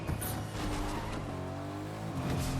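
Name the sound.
car driving nearby in the video game Fortnite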